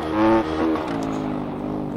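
Small 160cc motorcycle engine accelerating along a straight in the MX Bikes motocross game, a loud, continuous revving whine rising and shifting in pitch throughout, with no talk.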